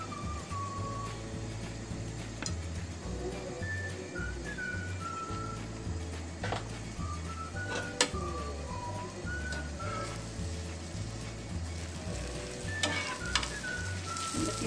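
A cheese omelette paratha frying in oil on a pan, a steady close sizzle and crackle with occasional faint stir sounds, while a soft melodic whistle-like tone drifts in the background.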